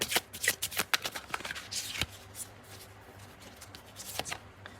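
Tarot cards being shuffled by hand during a love reading, a quick run of riffling, slapping card bursts, with a steady faint hum underneath and no talking.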